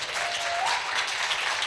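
Steady applause from a gathering at a talk on mysticism and the divine feminine, dense and continuous throughout, with a faint voice briefly audible beneath the clapping.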